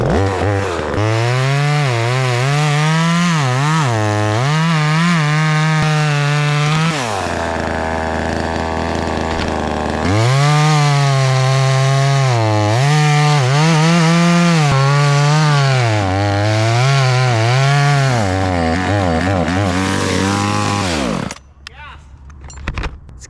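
A cheap, small chainsaw engine revs and bogs repeatedly while cutting a tree, loud and close, its pitch rising and falling before cutting out abruptly.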